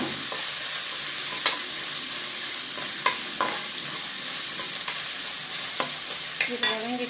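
Ginger and garlic sautéing in a hot pan, a loud continuous sizzle with intermittent scraping stirs and spatula clicks, close and alone.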